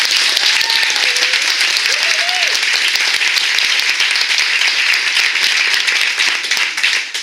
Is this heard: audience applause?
yes